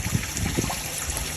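Running water trickles and splashes at a garden koi pond, a steady close wash of flowing water throughout with a few brief louder gushes near the start.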